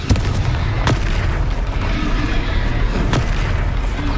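A Confringo fire spell explodes in the Hogwarts Legacy video game, a dense, loud rumbling blast with sharp booms and crackling bursts layered over continuous low roar.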